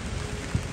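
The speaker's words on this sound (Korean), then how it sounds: "이 겨울에 비가 내리는 게 맞습니까" Winter rain falls steadily outdoors, a brief, soft wash of drops hitting surfaces with no talk.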